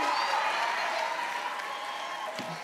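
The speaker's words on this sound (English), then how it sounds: "lot of people out here clapping for you, man" A game show studio audience applauding a contestant, steady dense clapping that fades slightly toward the end, loud and close, with a faint voice near the close.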